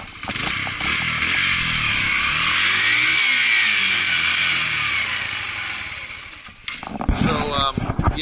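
A motorcycle with a TTR 125-based engine starts and revs steadily, a fairly quiet buzzing drone that swells and holds for several seconds before a clattering shift near the end.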